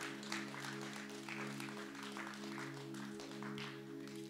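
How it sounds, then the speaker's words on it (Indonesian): Church congregation clapping in a room, a continuous patter of applause with a sustained musical hum underneath, moderately distant. "Kita mau beri tepuk tangan buat Tuhan."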